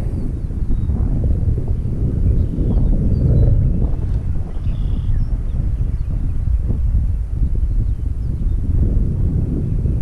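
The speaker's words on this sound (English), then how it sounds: "Apologize for the wind." Outdoor wind buffeting a microphone, a loud, continuous low rumble with gusty swells and no talk over it.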